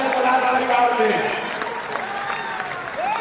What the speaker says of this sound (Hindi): तालियों से इनका स्वागत कीजिए जनकलाल परिवार में।